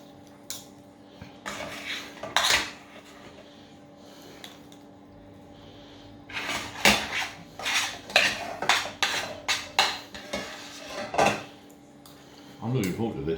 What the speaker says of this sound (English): spread it with the back of the spoon and a fork